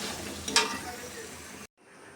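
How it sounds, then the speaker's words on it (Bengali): Meat being fried and stirred in a pan gives off a close, steady sizzle with a brief scrape of stirring partway through, then cuts off abruptly. "এই যে মাংসটা কষাই নিতেছি, একদম এরকম কষা কষা রাখবো মেয়ের বাবার জন্য।"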